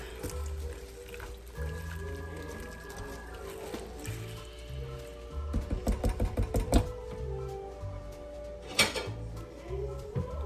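A spoon stirs food in a crockpot, giving soft scraping and a quick run of clinking knocks against the pot, fairly quiet under background hum.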